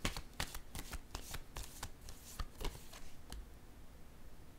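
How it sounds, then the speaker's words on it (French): Tarot cards are riffled and shuffled in a rapid run of crisp snaps, then one is set down with a soft tap near the end, close and fairly quiet with no talking. "Je vais déposer une carte en cette zone."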